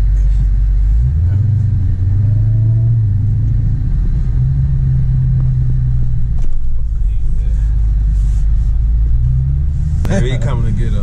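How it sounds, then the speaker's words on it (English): Deep, steady exhaust rumble from a 2019 Dodge Challenger SRT Hellcat Widebody idling close by, with low throbbing pulses that hold throughout and a voice talking over it, ending on a sharp higher burst. "I don't know what kind of mufflers they got on here, but these cars come from the dealer sounding good"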